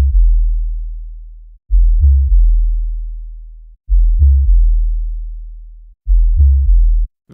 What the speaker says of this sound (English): Very simple bass line there.